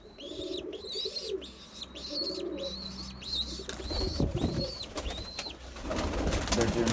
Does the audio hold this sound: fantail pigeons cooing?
yes